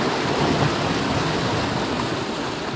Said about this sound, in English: The waves are coming round here.